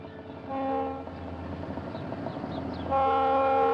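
A Conrail train led by an SD-45 diesel locomotive passes with a steady rumble of wheels on rails, while a loud multi-tone horn blasts, briefly at first and then more strongly toward the end.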